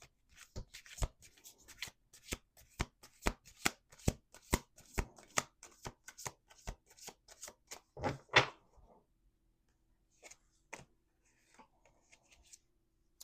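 Playing cards riffled in a quick series of sharp, close fluttering snaps for several seconds, then fading into near silence with a few faint soft card taps and handling sounds.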